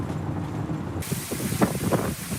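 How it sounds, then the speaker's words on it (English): Steady broadband hiss of wind-driven monsoon rain blowing sideways across Arizona's West Valley, swelling sharply partway through, with gusty bursts and patter sweeping past, no voices. "That's the sound of sideways rain sweeping through the West Valley"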